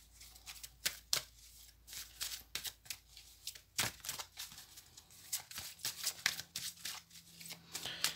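Deck of Message de vos anges oracle cards being shuffled by hand, a rapid series of crisp riffling bursts, close and fairly quiet, no talk.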